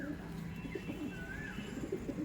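Madrasi pigeons coo softly and continuously in a loft, a low burbling murmur over a steady background hum, with faint chirps mixed in.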